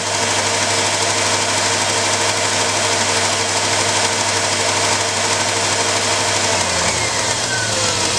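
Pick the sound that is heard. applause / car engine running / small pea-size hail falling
car engine running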